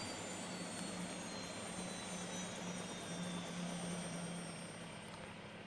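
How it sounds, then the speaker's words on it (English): A damaged helicopter's engine and rotor drone continuously in flight in a video game, a steady, fairly loud whirring hum that holds for several seconds and eases slightly near the end, with no speech. "The chopper's damaged. It's gonna struggle to stay in the air."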